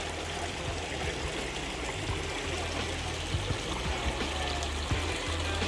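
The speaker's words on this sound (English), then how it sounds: "It's a beautiful creek down here." A creek flowing in the woods beside a muddy off-road trail, a steady close rush and trickle of water that carries on evenly with no voices.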